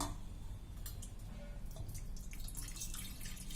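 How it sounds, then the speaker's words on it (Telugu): Soft, faint splashing and trickling as water is poured into a plate, with small drips over a quiet background. "ఇప్పుడు ఇందులో మనము వాటర్ పోసుకోవాలండి సగం వరకు ప్లేట్లో వాటర్ పోయే"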